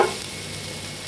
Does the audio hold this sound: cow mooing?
no